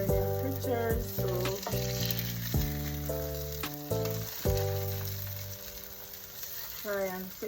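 Ripe banana fritters fry in a pan of oil with a steady, soft sizzle under background music.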